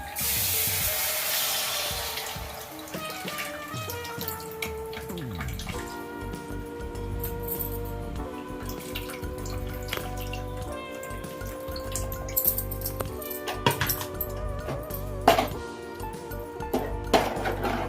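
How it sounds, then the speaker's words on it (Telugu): Tamarind extract is poured and splashes into a pot for fish curry, with dripping and light clinks of a vessel; a hiss opens the clip, all close by. "నానబెట్టిన చింతపండు ఉంది కదా అండి, ఇప్పుడు దీని పులుసు ఇందులో పోసుకోవాలి"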